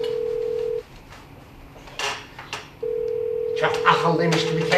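Telephone ringing tone on an outgoing call, steady tone pulses separated by a long gap, with clattering household noises and voices around it.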